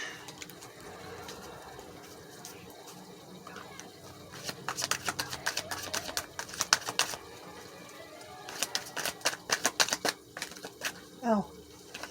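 Tarot cards shuffled by hand for a spread, a run of quick papery riffles and snaps that come in bursts through the middle and end of the stretch, close up, with a faint low hum underneath.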